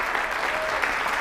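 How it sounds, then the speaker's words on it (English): Steady, dense audience applause fills a keynote presentation hall, a short unbroken stretch of many hands clapping together. "let's give you a round of applause also."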